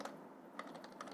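Quiet typing on a computer keyboard while entering an HTML file name, a few soft scattered keystrokes in a near-silent room.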